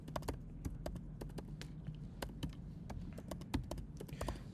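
Typing on a computer keyboard while writing a script, a brisk, uneven run of sharp close key clicks over a low hum.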